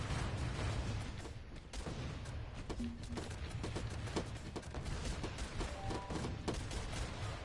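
Rapid machine gun fire and scattered bursts in the Guns Up game, distant-sounding volleys over a dense, continuous battle rumble with no voices.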